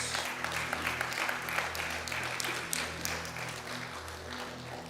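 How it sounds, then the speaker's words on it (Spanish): A church congregation claps in a sustained, fairly quiet round of applause, with a low hum of crowd voices and music running beneath the steady patter. "Dale ese fuerte aplauso a Dios."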